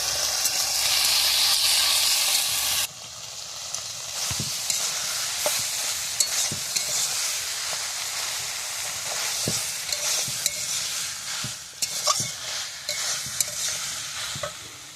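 Loud, hissing sizzle of flat beans frying in a pan with salt and turmeric, with frequent clinks and scrapes of a spatula stirring throughout; the hiss is strongest at the start.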